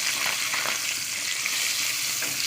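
Whole fish frying in a generous amount of hot oil, a dense, even crackling sizzle holding steady and loud from start to finish.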